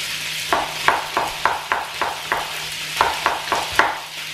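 Meatballs brown in a frying pan with a soft steady sizzle, broken by a run of regular scraping stirs about every third of a second, fairly quiet and without voices.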